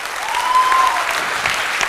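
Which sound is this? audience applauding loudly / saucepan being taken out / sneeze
audience applauding loudly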